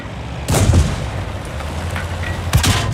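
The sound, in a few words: tank cannon shot penetrating armor in the video game World of Tanks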